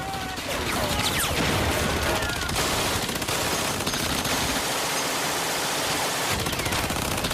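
Heavy machine gun fire rakes the beach at the Normandy landing: a dense, loud, unbroken roar of rapid gunfire blending into a wash of battle noise throughout.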